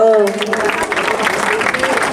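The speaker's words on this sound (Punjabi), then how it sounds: "ਤਾੜੀ ਦਾ ਮਾਰ ਦਿਓ ਇੱਕ ਵਾਰ" A brief burst of crowd clapping at a Teeyan festival in a Punjab village, following a sustained sung or spoken tone, lively and fairly close.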